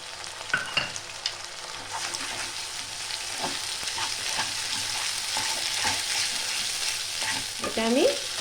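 Onions fry with ginger and garlic paste in a pan, a continuous close sizzle broken by scraping stirs from a utensil, with a short squeaky scrape near the end.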